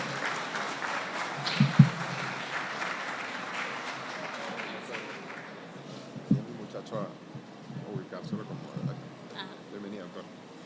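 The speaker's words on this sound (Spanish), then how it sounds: "Un aplauso para ella." An audience at a legal talk applauds warmly for several seconds, the clapping fading as a speaker begins talking and keeps on after it stops.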